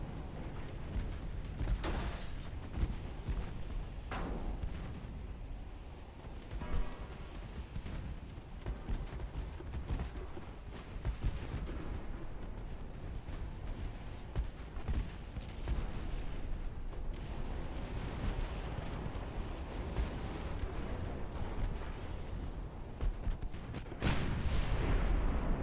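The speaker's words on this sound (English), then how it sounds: "They have 12-inch guns on their battleship" Battleship 12-inch naval guns firing in the Ultimate Admiral Dreadnoughts game, repeated deep booming blasts rolling over a dense, continuous rumble of distant gunfire and explosions, with no speech.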